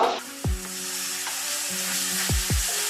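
Ginger, garlic and chili paste with tomato, turmeric, cumin and coriander powder frying in a pan for a fish-head and cabbage dish, a steady close sizzle with a few sharp scraping stirs of a spoon.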